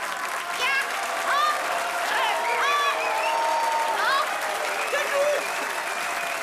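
Audience applause at the Hänneschen puppet theatre, a steady moderate clapping from a crowd lasting several seconds, with a puppeteer's voice speaking over it.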